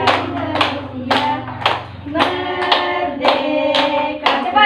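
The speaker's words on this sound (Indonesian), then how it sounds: "Tepuk tangan." A classroom of students claps along in rhythm during a school lesson about Indonesian independence day, roughly eight bursts of hand claps over about five seconds, loud and close, with a low hum beneath.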